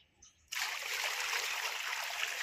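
Hot water is poured into a container of lunch boxes: after a brief quiet start, a sudden steady rushing splash begins and continues loudly and evenly to the end, with no speech.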